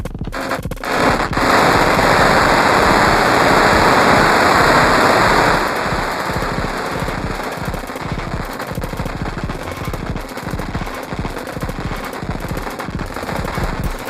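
Harsh, gritty synth tone decimated into digital distortion through a Tiptop Audio Z-DSP NS module with feedback, dense rattling texture and feedback buildup, loud at first and then settling slightly lower.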